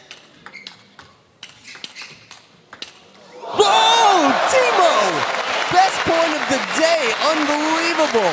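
At a 2017 men's World Cup table tennis match, sharp ball strikes on bat and table ring out in a quick rally, then a loud wave of crowd applause bursts in and carries on under a commentator's voice.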